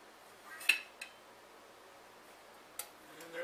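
Steak with onions and garlic from a crock pot being moved onto a plate, giving a few sparse, light clinks and taps of utensils against dishware over a faint, quiet room background.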